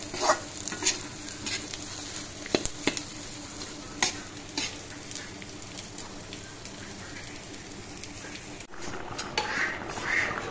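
Local chicken curry bubbling in a pot on the stove, a continuous close sizzling boil broken by scattered clicks and utensil knocks, with a brief dip near the end.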